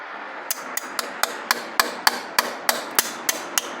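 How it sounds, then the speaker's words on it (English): A sharpened blade is hammered into cured Silastic RTV silicone stuck on a pan, giving a series of about a dozen sharp metallic taps at a steady, slightly uneven rhythm, close and clear with no talking. "so you can hammer it in and then just sort of cut that Silastic"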